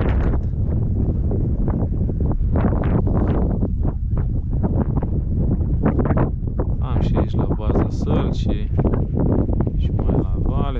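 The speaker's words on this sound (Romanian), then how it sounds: "vântul ăsta o să îmi bubuie capul acolo" Wind roars on the bank of Canal 22 at Gorgova during a February fishing trip, a continuous heavy rumble across the microphone while someone talks over it throughout.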